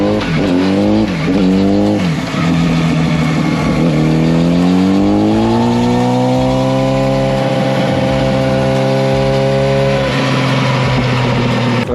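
A loud motorcycle engine revs hard and holds high on a chassis dynamometer, its pitch climbing and sustaining steadily, running continuously with no voices.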